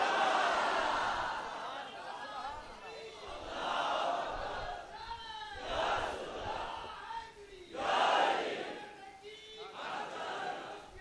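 A crowd at a religious gathering raises slogans in waves, surging several times between pauses, loud but somewhat distant and reverberant, with a speaker's voice in the gaps.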